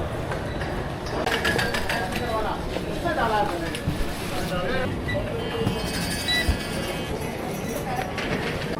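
A subway train in New Delhi rumbles and clatters along the rails with rhythmic mechanical rattling and squeals, steady and close, under a person talking.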